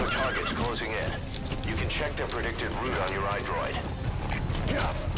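Horses whinny repeatedly over clip-clopping hooves and rumbling game effects in Metal Gear Solid V: The Phantom Pain, with voices talking underneath.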